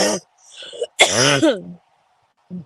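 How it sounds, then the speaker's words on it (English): A short, harsh cough bursts out between bits of voiced sound, with brief vocal noises before and after it. "you start coughing"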